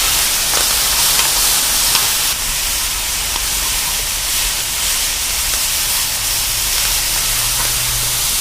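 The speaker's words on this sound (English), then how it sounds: "I've got some onions and some peppers that I've chopped up here, and we're going to get them a nice little saute started." Chopped onions and peppers sauté on a FireDisc cooker, a steady, loud, close sizzle that holds evenly throughout with no talking.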